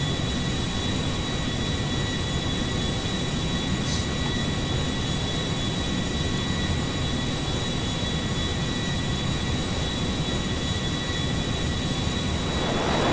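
An Airbus airliner's jet engines in a video game give a steady, loud, broadband roar that holds unbroken for the whole stretch, with no voices over it.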